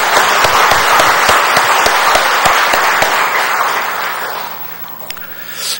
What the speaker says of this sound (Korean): 우리 다시 한 번 더 우리 성가대 대원들을 위해서 우리 격려의 박수 한번 부탁드리겠습니다.